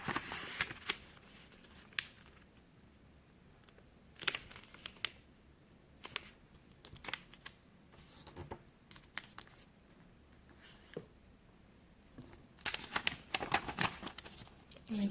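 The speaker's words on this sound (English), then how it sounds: "we're going to fold the bottom edge to the top edge" A blue sheet of origami paper is folded bottom edge to top edge, giving faint soft rustles and sharper crinkling creases scattered irregularly, close and quiet.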